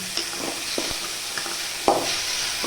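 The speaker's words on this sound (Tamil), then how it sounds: "மூணு தக்காளி போட்டு கொஞ்சம் நல்லா செவுக்கணும்" Tomatoes for potato masala sautéing in a pan with a steady sizzle and a few sharp stirring clicks and scrapes, close and fairly loud.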